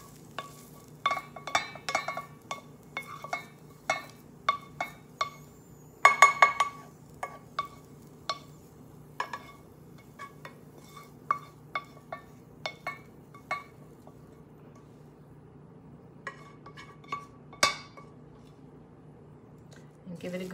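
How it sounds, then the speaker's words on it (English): Meatloaf mixture being stirred in a pan, a series of sharp clinks and scrapes spaced irregularly over a quiet background, with brief faint frying sizzle and occasional talking. "Give it a good stir."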